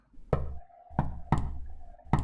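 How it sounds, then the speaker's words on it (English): Knocking on a door in the visual novel game Chaos;Child, four heavy, dull thuds at uneven intervals, close and loud, with no talking. "Oh shit, the knocking."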